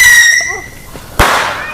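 A Hari Raya firework at a FELDA settlement gives off faint whistling, then bursts with one sharp, loud crack that fades into a short crackling tail.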